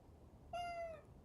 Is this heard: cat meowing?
yes